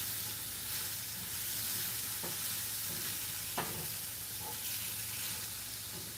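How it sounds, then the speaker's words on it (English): Whisking ingredients into a hot pan with dried onion flakes, a constant sizzle and hiss with occasional light scrapes and taps of the whisk. "Whisk this in."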